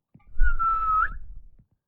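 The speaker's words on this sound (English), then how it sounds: "the enemy characters will come to search for the whistle sound" A player character in an Unreal Engine 5 game lets out a single short whistle, a steady tone rising slightly at the end, lasting about a second and heard alone.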